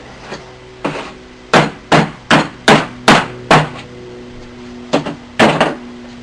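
A mallet taps on a wooden footrest in about a dozen sharp, close knocks, some spaced apart and some in quick runs, over a steady low hum.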